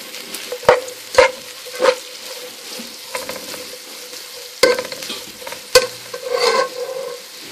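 Onion with garlic sautéing in a pan, a soft continuous sizzle broken by sharp close scrapes and clatters of a utensil stirring at irregular intervals.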